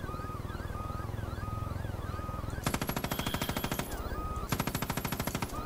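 Video game gunfire aimed at enemies: a steady background of rapid shots, then two loud, fast machine-gun bursts, each lasting about a second or more.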